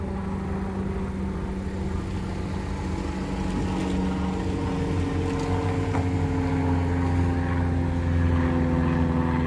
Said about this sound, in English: It's just a plane going over me.